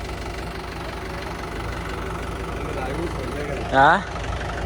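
A tractor engine idles with a steady low rumble and faint knocking, moderately close, while a person says a short word near the end.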